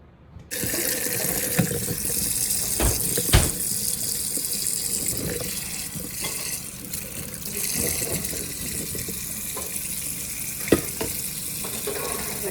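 Water from a tap runs steadily into a sink as freshly foraged wild berries are rinsed, making a constant close splashing rush with occasional knocks and clatters.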